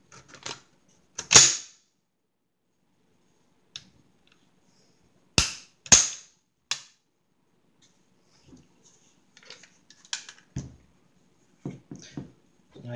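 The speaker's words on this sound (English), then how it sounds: "These mags can be a little bit stubborn because they are polymer. So push down on the mag." A polymer magazine on an SKS rifle is pushed down, giving a few sharp, close plastic clicks and snaps separated by silence, followed by softer scattered handling taps.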